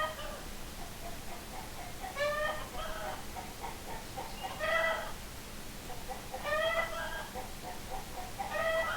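Several chickens cluck in short bursts of rapid, nasal calls that repeat every couple of seconds at moderate distance over a steady background hum.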